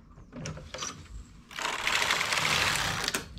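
A domestic knitting machine with a ribber bed runs close by, with a few short mechanical clacks followed by a louder, steady whirring rasp as the carriage sweeps across the needles.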